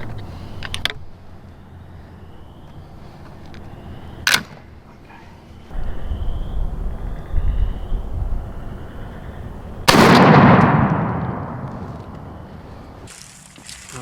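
A Benelli Super Black Eagle shotgun loaded with number 6 turkey shot fires one loud, close blast with a long decaying tail outdoors, preceded by a few sharp clicks and handling noises.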